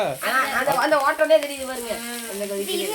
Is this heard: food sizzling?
yes